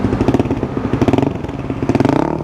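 A motorcycle fitted with a cheap aftermarket racing exhaust is revved hard up close, throbbing in rapid, loud pulses that rise and fall with the throttle, with no talking over it.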